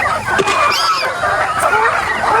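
Chickens cluck and squawk loudly and close up as they crowd in at feeding time, a dense, busy flock chatter running throughout with no talk.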